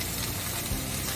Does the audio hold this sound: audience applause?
no